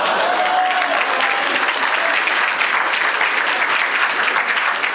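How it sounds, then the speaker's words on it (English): A large audience at a live late-night Q&A stage event bursts into loud, sustained applause, a dense wash of clapping that holds steady throughout. "round of applause"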